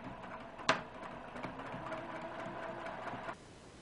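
A sewing machine stitches a quilt binding in a short, quiet mechanical run of rapid whirring clicks that starts with a sharp tap and stops near the end, with no talking.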